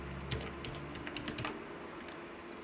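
Quick, light clacking of computer keyboard keys in short irregular bursts, close and fairly quiet over a low steady hum, during spreadsheet data entry.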